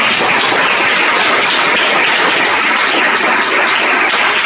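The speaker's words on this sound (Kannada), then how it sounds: "ಅವ್ರ ಒಂದ್ಸಲ ಎಲ್ಲರೂ ಚಪ್ಪಾಳೆ" An audience claps at a smart board inauguration event, a loud dense burst of applause sustained evenly throughout without speech.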